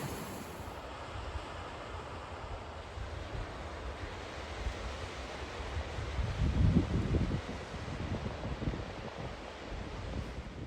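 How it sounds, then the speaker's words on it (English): A steady broadband rush of stream water at a trail crossing in the High Sierra near Tyndall Creek, with outdoor wind mixed in and a slightly louder surge partway through, and no voices. "We just came to this water crossing"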